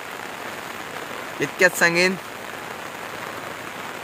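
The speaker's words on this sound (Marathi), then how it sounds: "आज अख्खो दिवसभर पाऊस पडता, बारीक बारीक पडवतो सकाळी, पण आता तर एकदम जोरात पडता." Heavy rain pouring steadily in a coastal village, a constant soft wash of noise with a brief spoken phrase over it.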